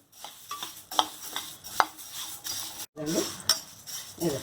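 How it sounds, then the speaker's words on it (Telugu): Cumin seeds and curry leaves dry-roasting in a pan, stirred with a spoon: a series of close scraping strokes and light metallic clinks at an irregular pace, with a short gap near the middle. "ఇట్లా కలుపుతూ ఉండాలి ఏగే వరకు"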